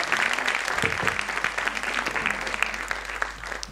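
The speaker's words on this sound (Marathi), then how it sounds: "आम्हाला जोरदार टाळ्या." An audience at a school competition event claps loudly and steadily, a dense crowd applause sustained throughout without a break.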